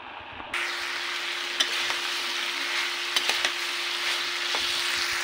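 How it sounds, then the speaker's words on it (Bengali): Sweet pumpkin frying in a pan on a village kitchen stove, a steady close sizzle with a few sharp clinks of stirring over a faint steady hum. "মিষ্টি কুমড়া ভাজি করতে দিয়েছি"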